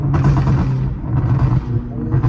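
A BMW M5 Competition's exhaust fires a rapid string of loud, sharp pops and crackles in close succession, like bursts of gunfire, with no break.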